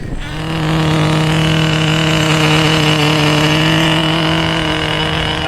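An Associated TC3 nitro RC car engine idles close by, a loud, steady, buzzing drone that holds a constant pitch for several seconds after a brief quieter start.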